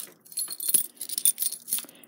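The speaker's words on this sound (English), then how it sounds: "So let me grab my keys" A ring of keys jangles and clinks in irregular bursts while being grabbed before a fire alarm pull station test, close and fairly loud with no talking.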